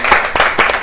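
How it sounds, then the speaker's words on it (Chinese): Clapping from a live-show audience greeting a guest's entrance, a short burst of several overlapping claps swelling in two or three waves, moderately loud. "借用你们线上的观众你们的热烈的掌声，让我们的老师亮丽的出场"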